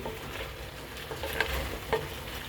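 Chicken coated in red chili sauce sautés in a pan with a steady close sizzle, broken by a couple of light stirring taps and scrapes, with no voices.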